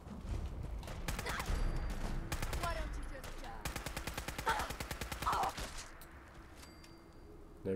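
A combat rifle in Fallout 4 fires in long automatic bursts of rapid, evenly spaced shots, loud and close, with short pauses between strings.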